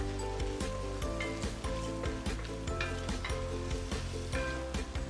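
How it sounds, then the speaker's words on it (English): Prawn shells sauté in oil in a cast iron pot for a fish head tofu stew, giving a steady, close sizzle with repeated scraping and stirring clatter and no voices. "Let it saute for 2-3 minutes, okay?"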